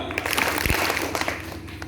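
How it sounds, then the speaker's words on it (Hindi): Students at a school gathering in a government high school clap together, a burst of group applause that sounds busy and roomy, with voices mixed in. "अगर आप वास्तव में अच्छे बच्चे हैं तो दो ताली।"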